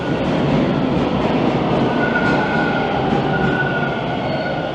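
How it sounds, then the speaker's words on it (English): A Toronto TTC subway train rumbles loudly and steadily into Kipling Station, a continuous roar with faint wheel squeal and rattling, no voices. "another train decided to roll in and make things a bit noisy"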